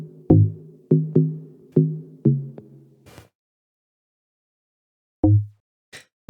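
A synthesized pluck accent for a deep house or deep tech track, struck in a loose rhythm of about six short tonal hits, then a pause and a single later pluck, with no voice present.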